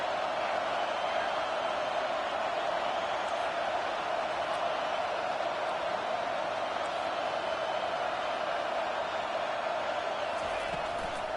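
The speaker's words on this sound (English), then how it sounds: "Decibels rising as the crowd gets behind this defense on third down." A college football stadium crowd on third down, a steady wash of roaring noise that holds level and fills the space throughout, heard beneath a commentator's talk.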